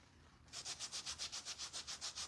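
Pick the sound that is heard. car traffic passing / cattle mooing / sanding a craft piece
sanding a craft piece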